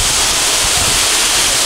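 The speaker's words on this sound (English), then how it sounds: "I'm behind the waterfall." A zoo waterfall at Toronto Zoo, heard from right behind the falling water, a loud, dense and unbroken roar that masks everything else.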